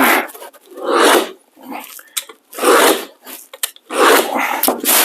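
Wall panel material being cut for a DIY living room, bathroom and entrance wall makeover, heard as repeated bursts of rough rasping strokes with short pauses between, close and fairly loud.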